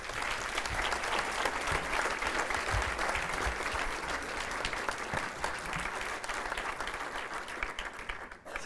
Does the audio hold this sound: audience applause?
yes